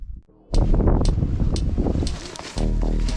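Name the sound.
wind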